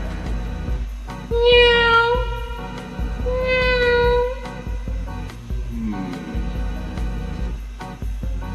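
A person imitates a cat, giving two drawn-out, close meows with rising and falling pitch, then a shorter, lower mew, set against a quiet background.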